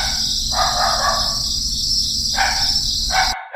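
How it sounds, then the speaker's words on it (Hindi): Crickets chirp steadily through a quiet night, with pulsing bursts of insect trilling over a constant high drone and faint distant dogs barking; it cuts off abruptly at the end. "सिर्फ झिंगुरों की आवाजें और दूर कहीं कुत्तों के भौंकने की हल्की सी गूंज"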